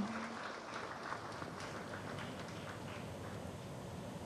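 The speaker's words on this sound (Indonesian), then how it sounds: "Luar biasa, boleh beri tepuk tangan yang meriah" An audience at a drug-enforcement operation news event gives faint, distant, steady applause, a soft continuous patter of many hands lasting the whole stretch.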